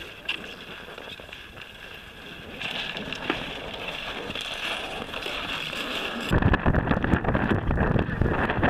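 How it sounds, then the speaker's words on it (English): Strong Antarctic wind buffets the microphone in a continuous roar, gusting louder toward the end, with a faint watery rush beneath. "it is very windy"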